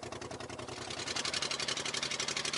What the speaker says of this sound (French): C'est à ce moment précis que le moteur va rendre son dernier souffle.